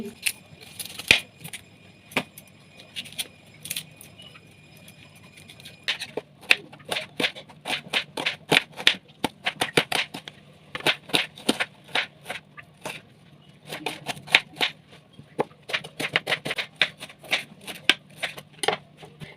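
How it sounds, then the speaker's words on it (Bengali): A knife chopping a large onion on a board for a bottle gourd kofta recipe, a long run of sharp, close, rapid cuts in quick irregular bursts with brief pauses. "একটা পেঁয়াজ কেটে নিচ্ছি।"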